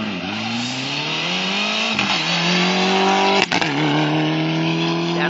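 A rally car at a German rally near Sulzdorf roars under sustained high revs and drifts through a turn, its engine pitch climbing with a brief shift dip. The sound is loud and close, with tyre noise mixed in.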